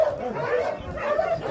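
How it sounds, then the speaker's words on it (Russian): Dogs at the Sirius animal shelter in Kyiv Oblast yip and whimper in a steady, close chorus that runs without pause, with a few sharper barks mixed in. "Это первый ряд собачки, которых вы все знаете."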